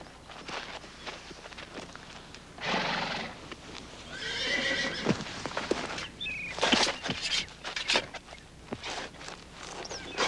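A horse whinnies loudly while hooves clop and shuffle nearby, with scattered rustling and brief movement sounds throughout.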